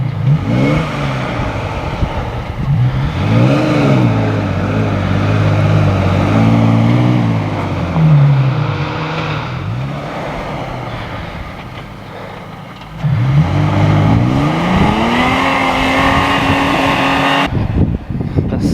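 An off-road vehicle pulling up a steep, soft, deep sand hill with loud engine revving that rises and falls in long swells, easing off midway before surging again, then cutting off sharply near the end.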